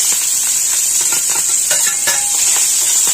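Onion, green chillies, curry leaves, carrot, dried red chillies and chana dal frying in oil for upma, a loud continuous sizzle with scattered light crackles and stirring scrapes.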